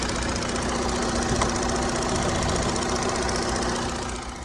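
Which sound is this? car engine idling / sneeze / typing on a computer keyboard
car engine idling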